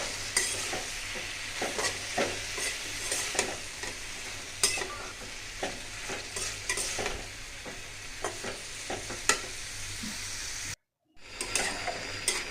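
Leafy greens sizzle and fry in a pan while being stirred, with repeated scraping strokes over a constant hiss that cuts out briefly near the end, no talking.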